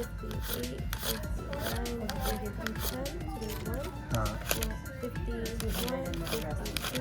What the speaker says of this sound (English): just so you can hear the crispy cash noises